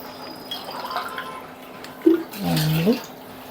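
Water poured from a glass into a pot while making ven pongal in a home kitchen, giving short splashing pours with a brief gurgling fill near the end, fairly close and moderately loud.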